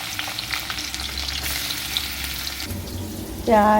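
Onions tipped into a hot pan and stirred, a close frying sizzle with stirring noise that swells to a louder burst near the end, no talk.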